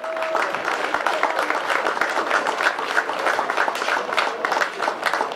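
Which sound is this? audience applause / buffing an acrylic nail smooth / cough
audience applause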